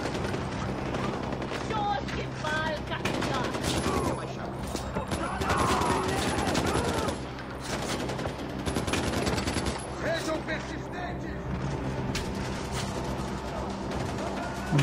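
A gun picked up in the Far Cry 4 video game fires in sustained rapid automatic bursts, dense and continuous for the whole stretch, over a loud game soundscape with someone talking now and then.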